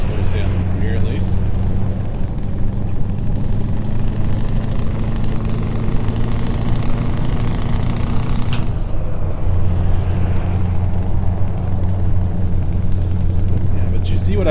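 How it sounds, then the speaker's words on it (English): Heavy truck engines in the video game Euro Truck Simulator 2 drone loudly and continuously, with a low rumbling hum and a brief whoosh midway as traffic passes, steady throughout. "you see what I mean about just the cars driving by"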